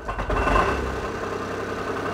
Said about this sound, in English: That's exhaust rattle,